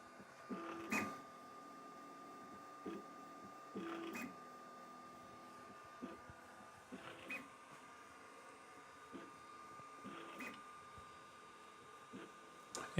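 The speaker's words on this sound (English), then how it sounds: "Printer is now doing its calibration." Sovol SV08 3D printer running its calibration routine, with short stepper-motor buzzes and whirs repeating in quick bursts over a steady faint hum, quiet and close.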